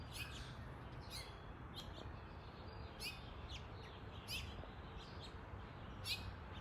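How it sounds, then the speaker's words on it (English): Small birds chirp repeatedly in short, bright bursts every second or so, fairly close under a carport, over a low steady background hum. "these birds under this carport are about to tear me up"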